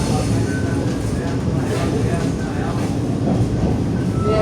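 Inside a moving Supervia commuter train in Rio de Janeiro, a loud, continuous rumble of wheels and carriage runs throughout, with a steady low roar and muffled voices in the car.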